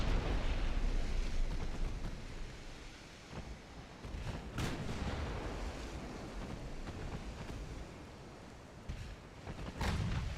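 Naval gunfire between warships in a video game, heard as a dense roaring wash with a few sharp booming blasts near the middle and end, set over a steady rumbling background like wind and surf.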